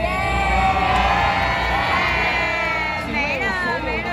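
New Year's crowd at the Taipei 101 fireworks cheering and whooping loudly, with a dense wall of shouting voices that stays loud throughout and dips slightly near the end.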